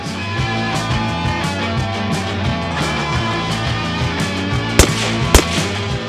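Outdoors at 50 meters, a carbine fires two sharp, loud rounds in quick succession near the end, each a cracking report, over a constant background hum and without talk.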